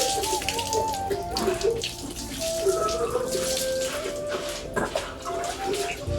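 Water runs steadily from a tap while a pet is being bathed, a close continuous splashing stream with some faint talk and tonal sounds underneath.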